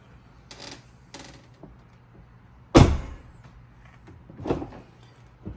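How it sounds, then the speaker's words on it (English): A Tesla Model Y car door swings shut with one sharp, loud thud near the middle, preceded by faint rustling and handling noises and followed by a softer knock. "we're just going to shut the door"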